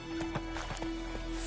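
Horse hooves pounding at a gallop in The Witcher 3: Wild Hunt, a quick run of clip-clopping beats over a constant game hum, with a brief neigh.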